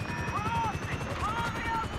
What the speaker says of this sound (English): We ain't going nowhere with that chopper on us!